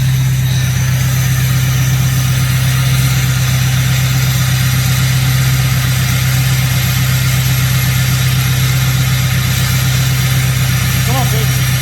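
A Ford 6.0 Powerstroke diesel with a 4 inch straight pipe idling after a cold start, a steady loud low rumble that stays unchanged throughout.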